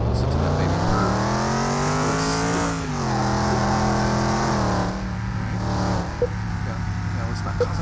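A repaired van's engine revs hard in Car Mechanic Simulator 21, a loud, steady drone with rising and falling pitch and brief dips near the end.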